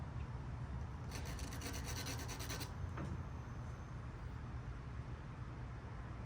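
Hand file rasping during bicycle maintenance, a quick burst of rhythmic back-and-forth strokes lasting about a second and a half, then a single scrape, over a low steady background hum.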